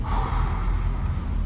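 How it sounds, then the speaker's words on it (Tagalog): A long, steady exhaled breath, close and breathy, pushed out slowly as part of a breathing exercise used when discussing cough symptoms. "Paggawas, exhale sa imong hangin."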